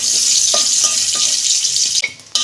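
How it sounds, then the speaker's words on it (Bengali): Whole spices, a dried red chilli and panch phoron, fry in hot oil in a pan with a loud, continuous hissing sizzle up close, punctuated by several light clicks of a spoon stirring against the metal. "ফোড়নটা আমি একটু ভেজে নেব"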